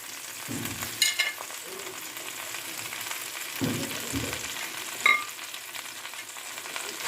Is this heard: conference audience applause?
no